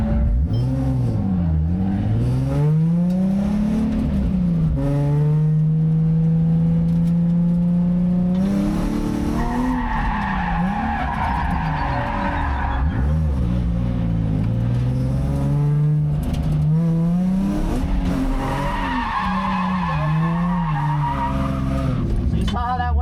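A car drifting around a track, its engine revving hard and rising and falling in pitch while the tires squeal and skid in long loud screeches, with voices talking over the noise.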